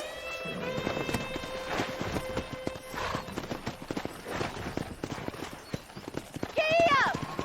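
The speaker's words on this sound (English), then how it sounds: "Let's see if we can't wrangle some horses." Horse hooves clip-clop steadily at close range while wrangling horses in the Red Dead Redemption video game, with voices talking over them and a brief whinny near the end.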